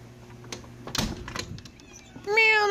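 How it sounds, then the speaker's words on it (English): A few clicks and taps, then a cat gives a clear, rising meow near the end, close and fairly loud. "Meow, don't you meow me."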